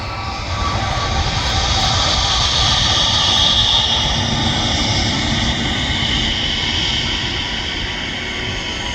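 Turkish and KLM jet airliners at the Manchester Airport runway, heard from the visitor park as a loud, sustained roar of jet engines that swells slightly and holds for nine seconds, without speech.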